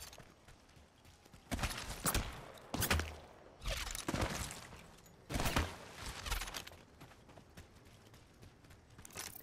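Repeated bursts of gunfire from a PS5 shooter game, several loud cracks and volleys spaced a second or so apart over a steady background of game ambience, with no voices.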